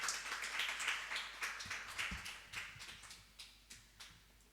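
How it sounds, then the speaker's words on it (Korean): Audience applause in a church congregation welcoming a speaker to the front, a dense patter of claps that is steady at first and thins into scattered claps as it fades, with no talking. "우리 앞으로 나오시면 박수로 한번 환영해 주시면 고맙겠습니다"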